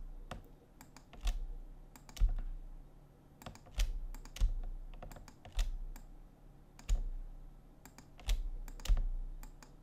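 Computer keyboard keys pressed in a slow, fairly regular rhythm, each press a soft close clack about once a second in a quiet room.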